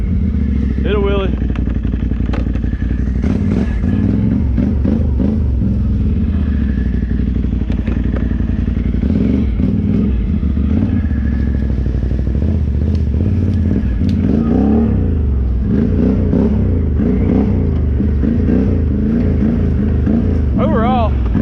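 A Can-Am 650 ATV engine revs hard and loud for a wheelie, its throttle rising and falling in repeated surges with clattering thumps from the machine, close by and continuous, with a voice speaking over it.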